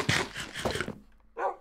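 Two or three short dog barks from a Minecraft survival game, bursting close and loud one after another with a brief gap before a final yip.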